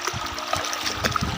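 Water of the Jhelum River trickles and gurgles in a steady, moderately close wash with small splashy bursts, no voices present.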